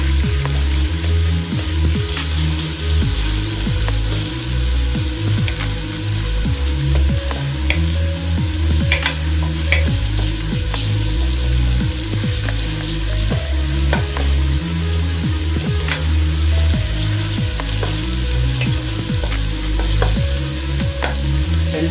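Onion and ground garlic fry in a pan for aji de gallina, giving a steady, close sizzle with frequent light stirring scrapes and clicks throughout.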